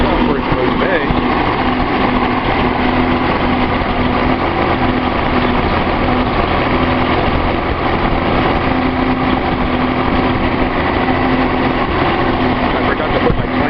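A Nissan 280Z with an L28 inline-six idles smoothly and evenly after a misfire fix, a close, steady, unbroken engine hum that runs the whole time with no stumbles.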